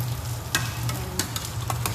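Spinach vegetable soup stirred in a pot after a seasoning cube and salt go in, with scraping strokes and soft sizzling over a steady low hum, the louder scrapes spaced irregularly through the stir.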